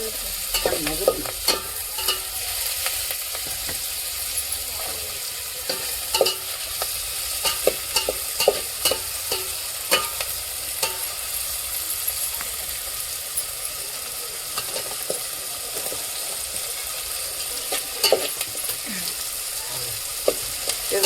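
Onion and tomato fry in a pan with curry leaves for a village-style biryani, a steady close sizzle running throughout with repeated stirring scrapes and clacks, no talking.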